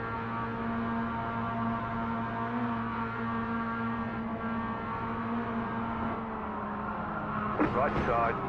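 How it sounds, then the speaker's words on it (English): Game car engine held at a steady high-revving drone with layered harmonic whine, loud and continuous, with a brief rattling burst near the end; hum-like and sustained throughout. "I love the sound of this car redlining."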